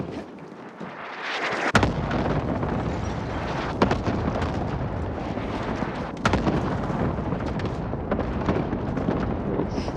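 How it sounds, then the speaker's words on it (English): Cluster-strike explosions rumble through a video game, a dense barrage of heavy booms after a brief quiet start, with several sharper blasts standing out over a continuous roar. "Allied cluster strike inbound."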